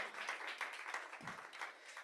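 Church congregation applauding for the Lord, a dense, steady wash of many hands clapping at moderate distance for about two seconds, fairly quiet and unbroken.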